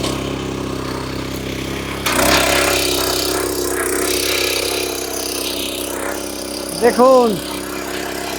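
A power tiller engine, 7 or 8 HP, running steadily close by with a loud chugging drone that jumps up in level partway through, while someone talks over it in Bengali.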